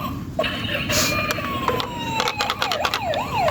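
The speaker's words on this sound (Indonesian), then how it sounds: "Ini ada mobil pemadam kebakaran juga." A toy fire truck siren wails with repeated rising and falling electronic tones that speed up toward the end. It sits over a steady, noisy background.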